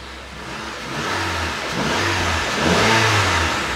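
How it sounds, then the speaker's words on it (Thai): A 2015 Honda Accord 2.0 EL engine revs close by, climbing from idle in several rising pulls that hold briefly before easing back. "เดี๋ยวมาลองเร่งเครื่องกันสักหน่อยนะครับ"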